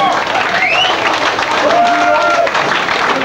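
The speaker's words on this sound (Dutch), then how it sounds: "Een applaus voor alle bands." Festival crowd in Tienray, the Netherlands, applauding all the bands at a 1997 rock show: dense, steady clapping and cheering filling the whole stretch, with a few voices and whistles poking through the wash.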